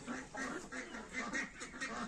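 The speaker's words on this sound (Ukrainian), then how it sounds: "Ось такі селезні" Heavy-line German-bred Muscovy drakes give repeated low, husky quacks and hisses in a steady rhythm, fairly close and moderately loud, with faint farmyard noise behind them.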